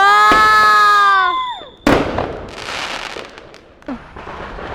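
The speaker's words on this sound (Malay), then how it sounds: "ada lagi bunga api" Fireworks go off at an Eid celebration: a long whistling shell rises with streaked tones, then a sharp loud bang and crackling bursts follow, with a second pop near the end amid background noise.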